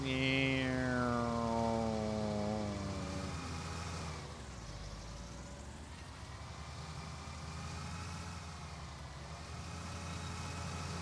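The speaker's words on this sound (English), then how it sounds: "This poor little tractor straining." A small tractor engine in the video game Farming Simulator 19 straining under load. Its pitch falls as the engine bogs down, and a low steady drone continues.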